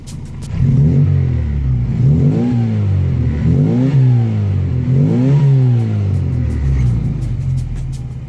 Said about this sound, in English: We'll have a quick listen to that exhaust.